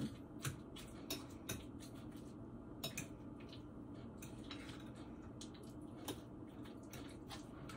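A spoon works sandwich spread around a small jadeite glass bowl, giving repeated soft clinks and wet squishing strokes, close and quiet with no talking.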